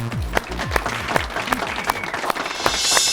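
An audience claps at a televised spiritual program honoring a guru, with scattered sharp claps over low musical tones, growing into denser applause toward the end.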